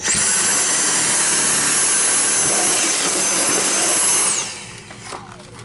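A cordless pet vacuum cleaner picks up sand on a bare floor with a loud, steady high-pitched whine that winds down near the end, leaving a few faint clatters.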